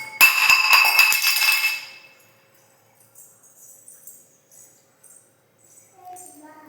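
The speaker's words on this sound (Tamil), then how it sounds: "ஒரு மூடி எடுத்து மூடி வச்சிடலாம்." A lid is set down over a pot of chicken biryani, a sharp metallic clink with ringing overtones at the start, then fading to quiet with faint small kitchen noises.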